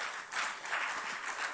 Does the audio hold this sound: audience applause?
yes